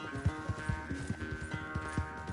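A horse gallops in a race in Red Dead Redemption 2, its hooves pounding in a quick, steady rhythm of soft thuds over a constant background of game music and ambience.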